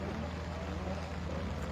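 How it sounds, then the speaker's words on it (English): A stock racing scooter at Darley Moor circuit runs with an engine misfire during a race, giving a continuous rough, buzzing drone at steady volume throughout. "Sounds like we're getting misfire issues there."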